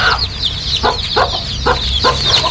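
Country hens cluck steadily in short repeated bursts, close by, over a constant background hum and high chirping, on a poultry farm with chicks.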